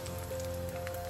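Cut salted fish sizzling in hot oil in a wok for fried rice, a steady crackling hiss over a constant low hum, close by.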